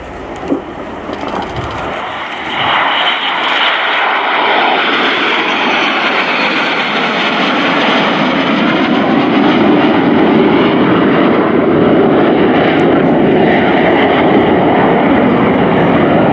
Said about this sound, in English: On your left, you see the two Rafale Marines coming back.